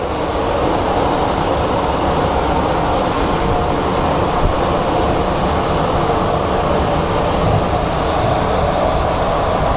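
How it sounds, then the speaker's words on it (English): A Triple Crown livery airliner powers up for takeoff at Phoenix Sky Harbor International Airport, a steady, loud broadband jet roar that holds evenly throughout with no pauses. "And then when it leaves, we're going to film its takeoff. So it is powering up."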